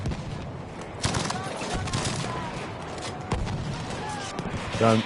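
A Tommy gun firing in Battlefield V on a British squad, with sharp bursts and single cracks of gunfire amid battle noise, mixed under a faint voice.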